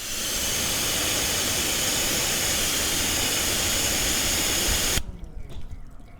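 Water from a strong spray blasts over a car freshly finished with a thick ceramic coating during a pre-rinse. A loud, steady hiss runs without pause for about five seconds, then cuts off abruptly, leaving faint dripping and background noise.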